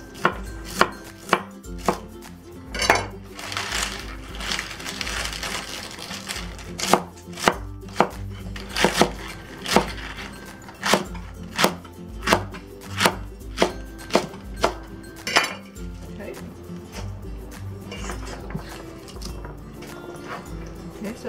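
A knife chopping rolled-up beet greens, with a close, steady series of sharp chops that come in bursts separated by brief pauses.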